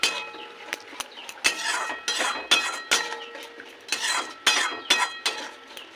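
A spoon clinks and scrapes rhythmically against a pan while a spice paste with whisked yogurt is stir-fried, with about a dozen sharp metallic knocks over a soft sizzle, close and without voices.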